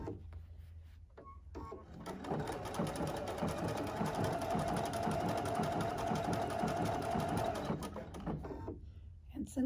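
Close up, a sewing machine sews a triple stitch on a fabric wine bag in one continuous run of rapid, even needle strokes lasting several seconds.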